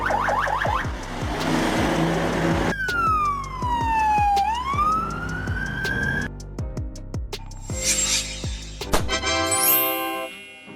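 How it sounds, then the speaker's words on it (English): An Estonian ambulance, a Mercedes-Benz Sprinter, Volkswagen Crafter or Ford Transit type van, sounds its siren through several changing patterns: rapid warbling yelps, a long swooping wail, then fast high-pitched trills, loud and close throughout. "ambulances are typically Mercedes-Benz Sprinter, Volkswagen Crafter, and Ford Transit"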